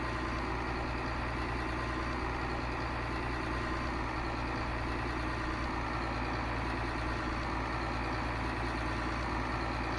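A tractor engine idling in a farming simulation game, set on the Upper Mississippi River Valley map while a plow is hooked up, a constant low droning rumble, steady and unbroken throughout with no talk.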